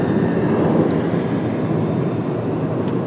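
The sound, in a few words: aircraft at Washington Dulles airport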